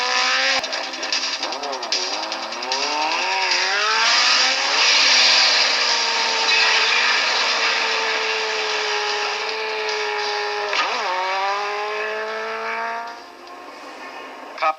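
Police cars race through the streets in a 1985 Street Hawk TV episode, with loud engine roars and wavering, wailing tones that rise and fall near the start and again later.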